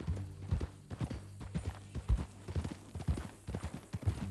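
Horse hooves walking in Red Dead Redemption 2, a loud, close, evenly spaced series of heavy clip-clops at a relaxed pace with a low background hum.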